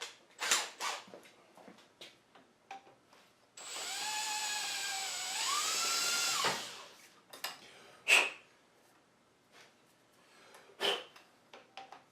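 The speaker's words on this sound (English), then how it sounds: "So I'll just deburr that." A power tool deburrs a machined part for a press brake in a shop, whining for about three seconds with a rising and falling pitch, set between scattered clanks and handling knocks.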